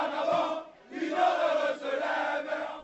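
Residents crowding the streets of Libreville, Gabon, cheer and chant after a coup, loud massed voices rising in two or three surging waves with brief dips between them.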